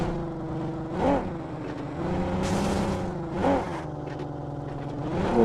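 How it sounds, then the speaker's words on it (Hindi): Motorcycle engine in PUBG Mobile on the Erangel map, a steady mid-pitched drone with rising revs and swells around one, three and a half and five seconds, close and continuous with no talk. "अब ये मुन्ना भाई की बाइक की आवाज़ आती है"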